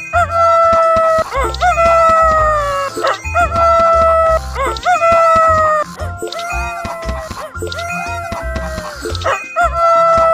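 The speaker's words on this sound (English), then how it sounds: "Let's ask Mr. Rooster to wake Miss Hens up." Cartoon rooster crowing in an animated animal-family farm scene, several loud drawn-out crows repeating across the clip over a bouncy music bed.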